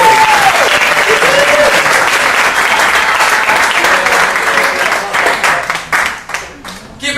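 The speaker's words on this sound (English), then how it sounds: "a big round of applause for Wendell Duper coming to the stage" A comedy club audience breaks into loud, dense applause as a comedian walks to the stage, with shouts and cheers mixed in. The clapping holds steady, then thins into scattered individual claps near the end.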